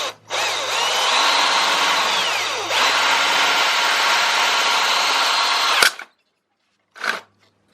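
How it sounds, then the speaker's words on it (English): A power drill bores holes into a DIY rabbit feeder in two long, close, loud whirring bursts. The second cuts off abruptly, and a short final burst follows after a pause. "This drill bit is not the best in the world either"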